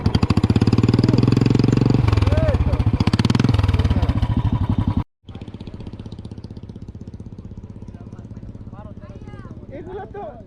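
A Royal Enfield 350cc motorcycle's exhaust thumping loudly and close at a rumbling idle. It cuts out abruptly halfway, then resumes at a lower, steadier beat while people talk nearby.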